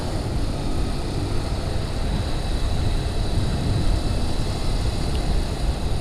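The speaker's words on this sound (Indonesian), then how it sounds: "70 km per jam sudah lumayan meraung dia" A non-Japanese motorcycle engine roars steadily in fifth gear at around 70 km/h, a constant loud drone mixed with rushing wind noise and no talking.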